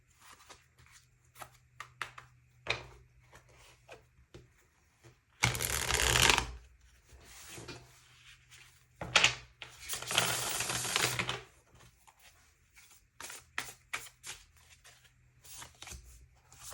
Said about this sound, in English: Let's do a hard shuffle.